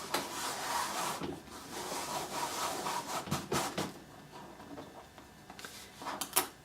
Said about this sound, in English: we're going to slide it around our mat